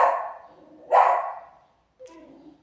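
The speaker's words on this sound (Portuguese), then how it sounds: "eu vou pedir desculpa também pelos latidos" A dog barks in a rural setting, a few separate loud barks with ringing tails, fairly close, with short gaps and a quieter final yelp, no speech over them.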